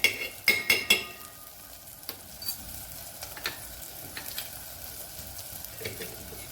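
Black chutney is stirred into pulao masala frying in a pan: a burst of clattering, scraping spatula strokes at first, then lighter irregular stirring taps over a soft continuous sizzle, close and clear.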